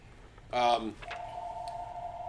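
A single telephone ring, then a steady electronic tone holds for over a second, fairly quiet against low background noise.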